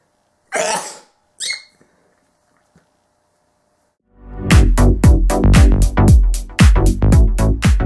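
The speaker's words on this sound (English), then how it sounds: "Oh, I gotta sneeze." A single sharp sneeze followed by a brief second burst, then quiet before a steady run of loud, rhythmic thumping beats.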